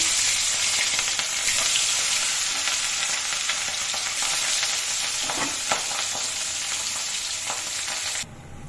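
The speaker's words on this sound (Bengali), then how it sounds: "তেলটা গরম হয়ে এসছে আমি রুই মাছটাকে ভাজবো" Rohu fish pieces sizzle and spit loudly in hot oil with a dense, continuous crackle and a few stirring clacks, no talking, until it suddenly cuts quieter.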